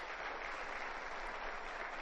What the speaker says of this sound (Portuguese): Eu peço inclusive um aplauso para eles.